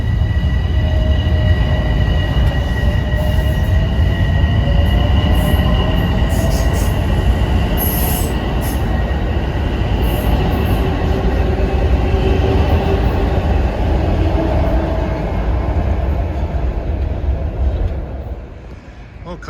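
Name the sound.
commuter train 766 from Croton Harmon arriving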